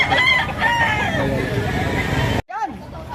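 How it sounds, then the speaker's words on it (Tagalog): An eleven-month-old white Kelso rooster crows loudly nearby at a market in Lipa, Batangas, its call cutting through a busy background of chatter and crowd noise, followed by a second crow. "Isang white kelso daw ito. Mag-iisang taong manok sa 11 months ito."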